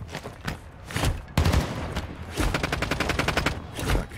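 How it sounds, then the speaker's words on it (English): Gunfire in Warzone 2 DMZ: several bursts of shots, then a long rapid automatic volley, heard fairly close with no talk over it. "I don't recognize that gun sound."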